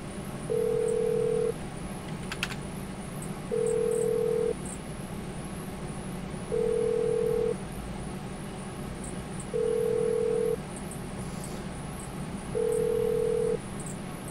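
A phone rings in the Issi Classic stunt racing video game, a single steady electronic tone repeating five times in even one-second bursts with gaps between, over a constant low hum.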